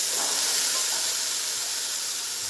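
Garbanzo beans dropped into a hot pot give a loud, steady, broadband hiss of sizzling that holds close and constant without pause.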